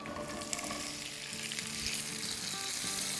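Chopped ginger, garlic and two green chilies hit hot oil in a pan for a chicken curry, giving a loud steady sizzle and crackle with faint stirring scrapes.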